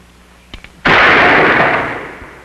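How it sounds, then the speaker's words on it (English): Two soft mechanical clicks come first, then a single loud revolver shot blasts out at a tin can in an old Western and fades into a long rolling echo. "Now, let me see you draw and fire at that tin can."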